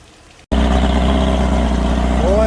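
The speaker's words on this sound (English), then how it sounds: "She just sitting there idling like she ain't never been abandoned or nothing" A Mercury 50 hp outboard motor starts with a sudden jump after a short quiet moment, then idles in a steady, loud, low-pitched rumble with no voices over it.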